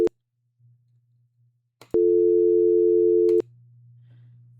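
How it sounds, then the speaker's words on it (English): A telephone line tone from the XLite softphone sounds as a steady, loud electronic hum lasting about a second and a half, preceded by a brief click, then a faint low hum remains. "You will pretty much hear a dial tone."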